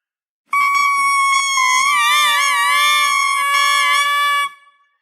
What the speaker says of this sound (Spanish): Esta caña tiene un sonido propio particular que es bastante gracioso y suena así.